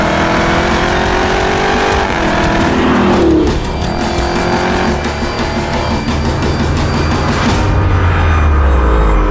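A Dodge Viper driven flat out, its engine roaring loud and close under hard acceleration, with shifting pitch through the gears and a brief drop in intensity partway through, no talking over it.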